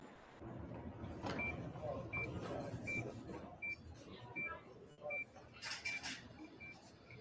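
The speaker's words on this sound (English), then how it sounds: "this is just kind of like hospital ambiance, right? Busy hospital ambiance." Busy hospital ambience with a steady murmur of background activity and a repeating electronic beep at an even pace, joined by scattered clatters and distant voices.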